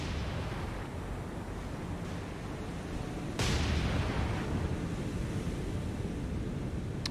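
The main guns of the battleship USS Iowa fire in the naval video game War on the Sea: one heavy boom midway through, then a louder rumbling roar over steady sea and wind noise.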